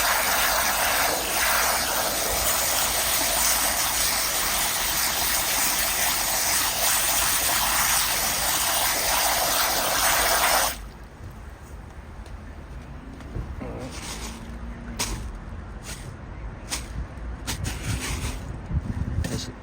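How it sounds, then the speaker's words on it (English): A water nozzle sprays hard and steadily for about ten seconds while rinsing soap suds from air gun competition pellets, then shuts off, leaving softer trickling and handling sounds. "I usually run the nozzle till the suds are less."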